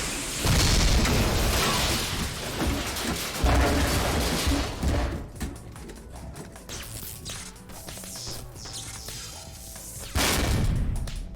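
A missile explodes and smashes through a barrier in the Jak 3 video game: heavy booming blasts and crashing debris roll out at close range over a loud, dense game soundscape, with a final surge of impact near the end.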